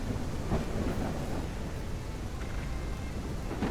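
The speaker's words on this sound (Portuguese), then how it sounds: "E aproveitei a chuva" A rainstorm in the farming video game Ranch Simulator, with dense steady rainfall and deep rolling thunder filling the background, loud and continuous without any voices.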